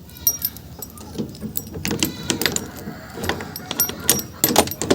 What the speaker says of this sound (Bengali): তো এখানে তালা খুলে নিল।